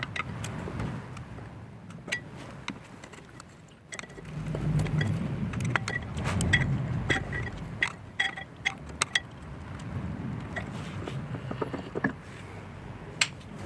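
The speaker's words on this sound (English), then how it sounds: "I'm going to use the flat screwdriver to fully return the pistons." A flat screwdriver levering the brake caliper pistons back on a Mercedes AMG front brake, with scattered metallic clicks, scrapes and clinks of tool on metal over a low rumbling background, close and irregular, with no talk.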